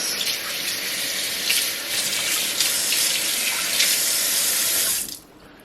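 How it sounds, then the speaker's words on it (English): Kitchen tap running steadily as a filleted round fish is rinsed, a continuous splashing hiss of water into the sink that cuts off abruptly near the end. "There we go, give it a bit of a rinse."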